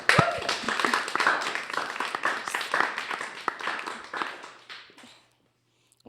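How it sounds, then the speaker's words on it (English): A high school audience applauds a broadcast class instructor as she joins the stage, with crisp individual claps in a lively burst that thins out and stops, leaving near silence. "Let's give her a round of applause"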